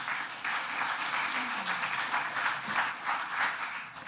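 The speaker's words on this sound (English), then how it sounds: "If we could hold the applause during the remainder of the agenda, that would be great." Audience applause at a public board meeting, steady mid-level clapping from many people in a room, rising and falling in waves for several seconds.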